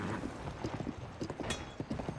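Horse hooves clip-clop in Zelda: Tears of the Kingdom as a mount is ridden near the Fort Hateno cave area, a rhythmic series of close, distinct hoofbeats with a brief mechanical clatter midway.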